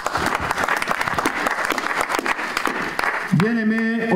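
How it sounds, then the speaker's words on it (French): A church congregation claps loudly and steadily at a worship service, sustained applause filling most of the moment before a voice rises over it near the end. "On acclame encore fort pour ce Dieu-là."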